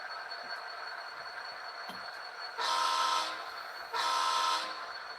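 A model train on a shelf layout backs into a siding, giving a steady running hum with two sustained horn blasts, close and fairly loud, separated by a short gap.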